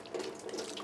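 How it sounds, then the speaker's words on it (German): Water runs from a tap so a dog can drink, a brief, steady splashing stream heard close up with no voices. "Der Manto trinkt übrigens sein Wasser am liebsten aus der Leitung"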